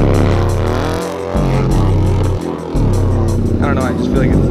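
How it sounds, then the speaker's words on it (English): A Yamaha Bolt motorcycle revs hard while drifting in a parking lot, its engine note rising and falling in repeated surges, with close, loud exhaust and people talking over it. "You gotta let the RPMs rise a little bit."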